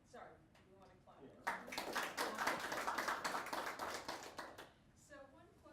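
At a nutrition science summit, an audience breaks into a burst of clapping after a talk, swelling for a few seconds and fading, with voices speaking around it.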